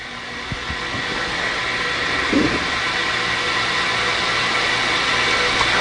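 Nitrogen venting from the back drain of a 2300-S spin rinse dryer during low-RPM drying, a loud continuous broadband rush with a steady mechanical hum underneath.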